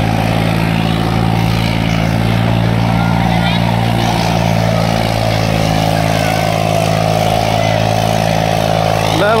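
Farmtrac 60 tractor engine roaring steadily under heavy load during a two-harrow tractor pulling contest, a loud, continuous droning hum with no breaks, close by.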